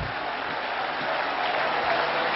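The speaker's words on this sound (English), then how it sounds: "Clap your hands again" Church congregation clapping their hands in praise, a steady wash of applause without a clear shared rhythm, moderately loud and continuous.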